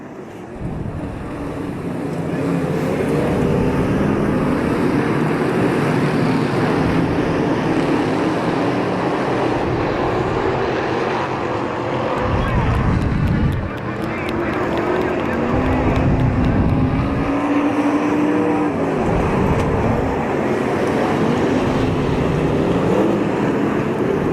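Sportsmen modified race cars at Devil's Bowl roar back up to speed on a restart under the green flag, a dense, steady engine din with wind buffeting throughout and a commentator talking over it.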